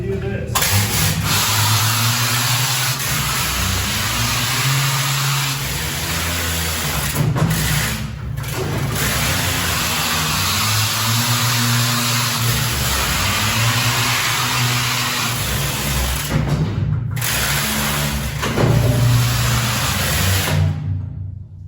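Mucking machine loading a mine car at a blasted muck pile in a tunnel, its engine running loud and steady, with rising and falling strain as it swings from side to side, and a few brief clanks over the noise.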